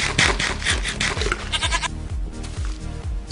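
Goats in the Minecraft video game bleat repeatedly in quick, wavering cries, loud and close, overlapping in a steady run with no talking.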